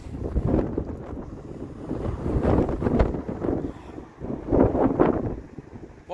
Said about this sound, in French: Je me mets à l'abri du vent, il y a un vent de fou.